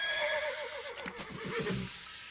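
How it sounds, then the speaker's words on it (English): A horse in the video game West of Loathing neighs in a drawn-out whinny with a few clopping hoof sounds near the end, fairly loud and close, with no talk. "How did the horse get here?"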